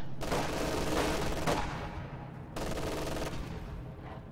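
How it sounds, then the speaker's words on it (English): Field gun and anti-tank gun fire in a video game battle, two sharp loud blasts each followed by a long rumbling decay, the second arriving about a second after the first fades. "Both field gun shots have penetrated."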